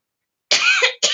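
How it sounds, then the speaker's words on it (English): A woman coughs at close range during a Google Docs tutorial, two quick harsh bursts in a row after a moment of silence. "I just need to cough it out."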